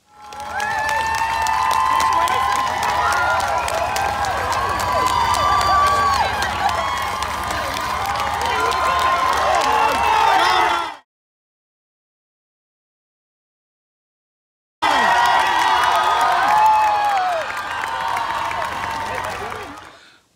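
Marathon spectators cheer, clap and shout as Mo Farah runs past: a loud, sustained roar of voices, whistles and applause that drops to complete silence for a few seconds, then resumes just as loudly.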